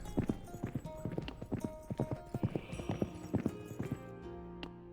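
Horse hooves clip-clopping in the strategy video game Citadelum, a quick irregular run of clear close hoofbeats with a faint neigh and synthetic tonal game sounds underneath.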